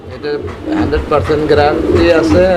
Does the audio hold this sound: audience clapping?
no